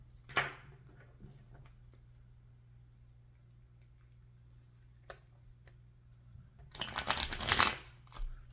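Cards riffle-shuffled once in a quick, crisp burst after a long quiet stretch, with a few scattered taps and clicks close by.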